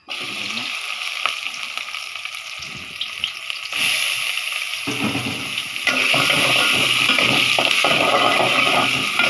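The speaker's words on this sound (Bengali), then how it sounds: "তো পেঁয়াজ দিয়ে দিই" Onion slices hitting hot oil for a Bengali fried chicken and long-bean dish, giving a steady broadband sizzle that jumps louder partway through and keeps crackling and hissing with no talking.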